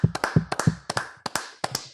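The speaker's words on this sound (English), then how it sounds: "Round of applause, Gabe." Hands clap and tap in an uneven run of about a dozen sharp, close strikes over two seconds, with no talking.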